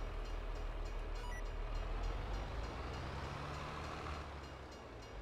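A train rumbles steadily past in the video game Farming Simulator 22, a dense low roar with rail clatter holding at constant loudness and fading slightly near the end, with no talk.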